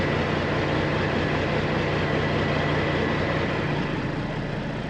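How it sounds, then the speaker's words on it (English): A steady low drone of several truck engines idling nearby hums without pause, constant and unchanging throughout. "all the other trucks that are here with their air dryers going off and motors idling"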